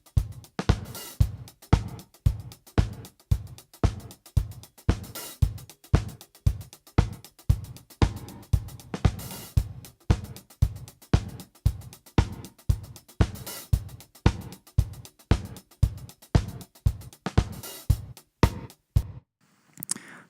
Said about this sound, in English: So there you go, gated reverb.